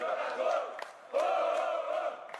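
A virtual stadium crowd in a football video game for Ferroviário versus Atlético Cearense roars and chants in two loud swells after a goal, with a short dip between them and no talk over it.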